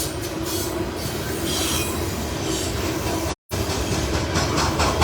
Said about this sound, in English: So this is a loaded coal train, C307, continuing its move south on the CSX.